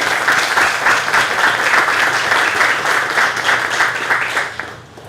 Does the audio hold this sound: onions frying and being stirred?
no